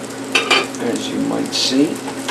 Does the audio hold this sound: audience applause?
no